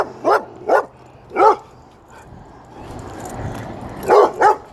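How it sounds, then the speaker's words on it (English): A small dog barks in short, sharp bursts, three near-together yaps, then a lull with low background noise before two more barks close to the microphone. "Hold on, we got a little doggy."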